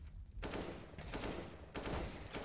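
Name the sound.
gunfire in a video game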